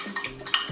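A spoon stirs two teaspoons of English mustard into a mixture for a prime rib crust, giving a few short, soft scraping and clinking strokes close by, with no voices.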